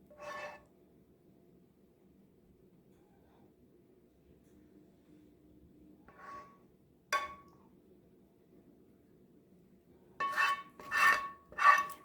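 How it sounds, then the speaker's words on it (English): A utensil scrapes caramel sauce into ramekins for a flan, leaving a few brief scrapes separated by near silence, then a louder cluster of scraping strokes at the end. "I like scraping all of this yumminess into the ramekins."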